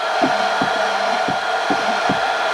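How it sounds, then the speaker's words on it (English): A steady loud blowing whoosh of a heat gun running continuously while used on a knife strop, with a low mechanical hum and faint rhythmic thumps underneath. "You take a heat gun, so pardon the noise."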